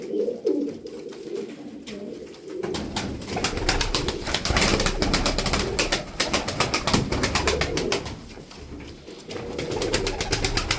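Tumbler pigeons coo in a loft, soft throaty calls mixed with busy clattering and fluttering noise from the flock throughout.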